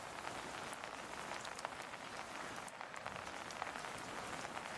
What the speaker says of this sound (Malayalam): രണ്ട് ദിവസമായിട്ട് ശക്തമായിട്ടുള്ള മഴ പെയ്യുന്നുണ്ട്.